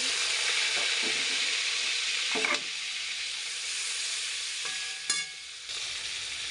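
Steady, loud sizzling as rohu fish fat cooks in leftover fish-frying oil, with a few brief scrapes and clinks over the hiss.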